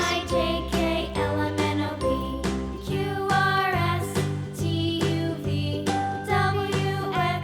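Bright jingling bells ring steadily over a backing tune, shimmering and continuous with no voices.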